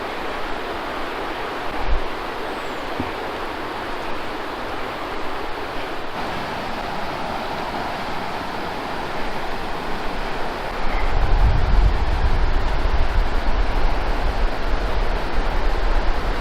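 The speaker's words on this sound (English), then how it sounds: "I can see the river through the trees." Umpqua River water flowing outdoors near Tyee campground, a steady broad rushing wash heard from a distance, growing louder with low wind rumble toward the end, no talk.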